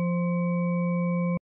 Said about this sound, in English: We can add a couple more harmonics and get something very organ-like.